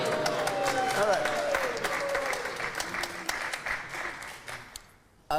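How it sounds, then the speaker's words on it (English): A studio audience at a televised political debate show on the junior doctor contract dispute claps loudly and continuously, the dense applause thinning out before cutting off near the end. "You were applauding that point."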